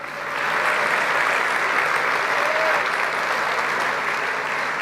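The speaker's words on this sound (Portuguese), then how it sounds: "aplauda o Senhor" A church congregation applauding during a sermon, a steady, full wash of clapping that swells in and holds evenly for several seconds.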